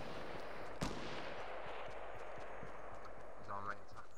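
A single sharp gunshot cracks nearby in the battle royale game Fortnite, one loud close report early on against steady game noise and scattered footstep-like clatter, with brief voice chatter in the background.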